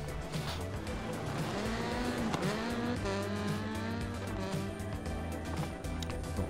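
A Citroën C4 rally car races through a gravel special stage in Catamarca, Argentina, in Dirt Rally 2, its engine climbing and dropping through the gears amid tyre squeal and skids, loud and steady.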